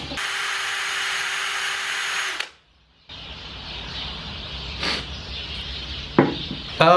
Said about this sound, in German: müssen wir jetzt in dem Bereich unser Loch bohren.